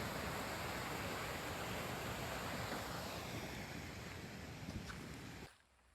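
Wild, fast-flowing water swollen after heavy rain rushes loudly in a steady broadband roar with wind buffeting, then cuts off abruptly near the end.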